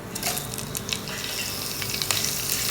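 Steady close sizzling of whole cloves, cinnamon and cardamom frying in hot oil in a pan, with faint crackles throughout and no talk.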